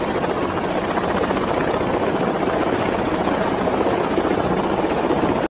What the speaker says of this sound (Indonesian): kok ada suara helikopter?